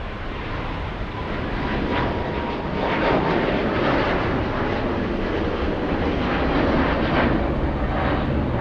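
A heavy long-haul airliner lands on runway 24 right at Los Angeles International Airport. A loud, broad engine roar builds and holds close by for several seconds with thick turbulent rumble throughout.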